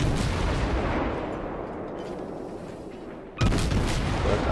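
Naval gunfire from an American destroyer battle in World of Warships: a dense, continuous roar of booming shots and rumbling blasts that dips slightly, then surges back loud and close near the end.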